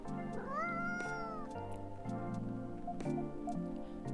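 A cat meows in the video game Coffee Talk, a few rising and falling mewing calls up close over soft background game music, with no talking.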